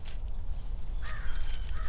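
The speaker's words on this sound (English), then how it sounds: "Oh, got another crow. Love that sound." A few harsh caws ring out at a distance over a steady low rumble, faint and slightly echoing.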